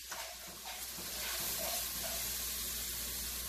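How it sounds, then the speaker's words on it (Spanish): A sofrito with paprika, cumin and bay leaf fries quietly in a pan, giving a soft, steady sizzle and crackle with faint stirring, with no voices over it. "Ya el sofrito se está haciendo aquí."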